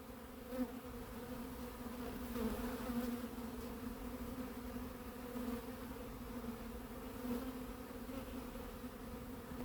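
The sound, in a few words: honeybees buzzing around a beekeeper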